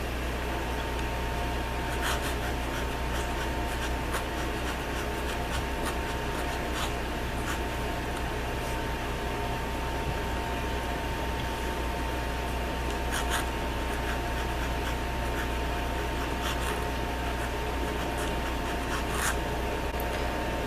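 A Desiderata flex fountain pen nib scratching steadily across paper, a soft continuous rub with faint periodic scrapes from the strokes, close up and alone.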